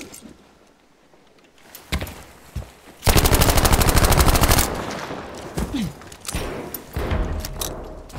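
Video game gunfire crackles close: a few scattered shots, then a long loud burst of rapid automatic fire, followed by sporadic clicks and clatter.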